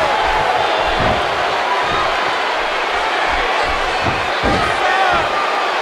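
A crowd roars and cheers throughout, punctuated by several heavy thuds of bodies slamming onto a wrestling mat, with one especially forceful DDT impact near the end.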